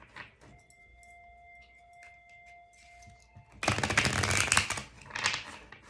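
Tarot message cards being shuffled by hand, a sudden dense flurry of riffling card noise after a quiet stretch with a faint steady tone, fairly close and loud, with no talking.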